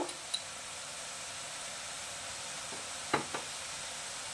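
Spices for lasooni methi cook in oil in a pan: a soft, steady sizzle runs throughout, with a few brief clicks of stirring.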